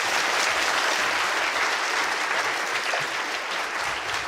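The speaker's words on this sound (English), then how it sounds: "Big round of applause for Dora." A studio audience applauds a participant named Dora in a dense, even wash of many hands clapping that holds at a constant level for the whole stretch, with no voices over it.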